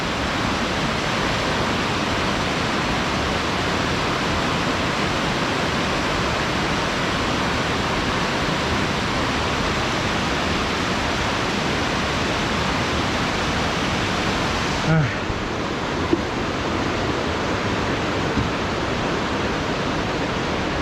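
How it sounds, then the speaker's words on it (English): A river flows steadily beside a rocky mountain hiking trail near North Bend, Washington, a constant broad rushing roar that fills the whole stretch, with a brief handling bump near the end. "I wondered if we were going to cross that river."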